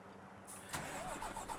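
Engine of the Tatra Phoenix mod truck in SnowRunner turns over and catches, then settles into a steady mid-pitched rumble with a slight rising rev, heard alone and moderately close.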